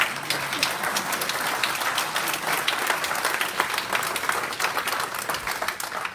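Steady applause from a crowd, dense clapping that holds at an even level for several seconds.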